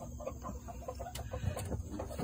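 Hens clucking near a nesting box and chick feeder and waterer: soft, repeated low clucks in an irregular patter, fairly faint and close, with no talking.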